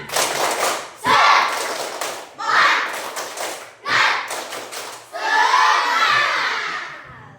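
A class of children performs a rhythmic spirit clapping chant in bursts, sharp group claps alternating with shouted chant lines, loud and close in a classroom, ending in a longer cheering swell.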